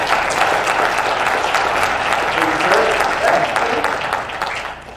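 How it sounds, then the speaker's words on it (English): An audience at a virtual real estate business event applauds an incoming guest speaker, a dense, sustained wash of clapping at fairly loud level that carries steadily before tapering at the end, a faint voice briefly underneath. "let's give a big, warm round of applause for Mr."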